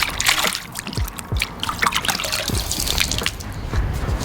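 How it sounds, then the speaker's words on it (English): Water trickling and dripping into a mixing bowl, close and continuous with scattered splashy drips and small plops, no voices. "I don't know really why you would dunk your head in a mixing bowl full of water"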